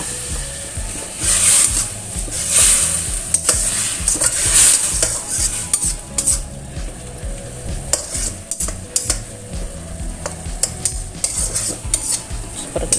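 Mushrooms and mixed vegetables stir-fried in a pan with a little water: a continuous close sizzle under steady scraping and stirring strokes, with occasional utensil clinks against the pan and no talking.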